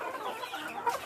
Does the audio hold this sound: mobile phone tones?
no